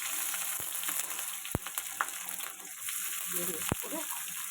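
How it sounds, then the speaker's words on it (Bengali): Nigella seeds and dried red chillies sizzle in hot oil as a Bengali tempering for fried greens, giving a steady close crackling hiss with a few sharp pops and spits throughout. "কালো জিরে শুকনো লঙ্কা ফোড়ন দিলাম"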